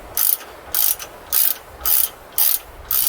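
A hand ratchet wrench works on the rear brakes of a 1999 Ford Expedition, giving six loud, close bursts of clicking in an even back-and-forth rhythm with short pauses between strokes, alone without talk.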